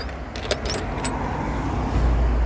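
A bus drawing near a stop outdoors, heard as a steady broadband roadside rumble whose low engine drone swells and grows louder toward the end, with a few brief light metallic jingles early on.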